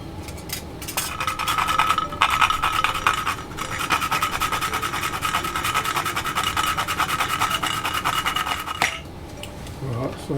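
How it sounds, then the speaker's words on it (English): Whole nutmeg rasped over a fine grater into a pumpkin, carrot and sweet potato punch base, a steady scratchy filing sound with fast regular strokes running for about eight seconds, close and fairly loud. "And I'm going to grate some nutmeg into that."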